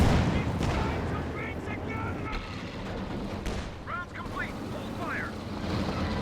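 Artillery barrage in Company of Heroes 2, booming rumbling shell fire and wind-like battlefield noise through the whole stretch, with high whistling shells overhead.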